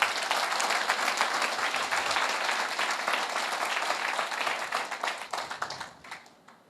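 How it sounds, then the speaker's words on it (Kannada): A loud, sustained round of applause from a workshop audience, dense and even before tapering off near the end. "ಒಂದು ಜೋರಾದ ಚಪ್ಪಾಳೆ, ಒಂದು ಬಿಗ್ ಥ್ಯಾಂಕ್ಸ್ ಹೇಳೋಣ"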